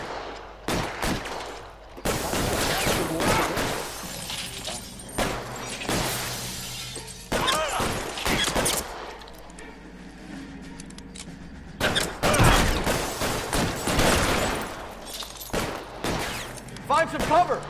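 Gunfight in the video game L.A. Noire as criminals flee from police, with repeated bursts of gunfire and shattering impacts in loud clusters and pauses between them, and voices heard among the shots.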